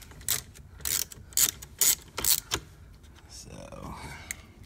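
A hand ratchet works a bolt loose inside a 2015 Cadillac Escalade during a CarPlay upgrade, giving about six bursts of close, dry clicking, each under a second, before a quieter shuffle of handling.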